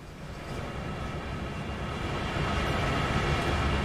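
An SD40-2 diesel locomotive working hard on a grade in Train Sim World 2 at night: a steady low engine drone and rumble that swells slightly louder near the end, with no talking.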